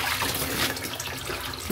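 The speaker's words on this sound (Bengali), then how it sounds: "শাকটা এই যে সুন্দরভাবে বালতিতে করে ধুয়ে নিচ্ছি জলের মধ্যে চুবাই" Leafy greens are swished and dunked in a bucket of water, making close, continuous splashing and trickling for a short moment.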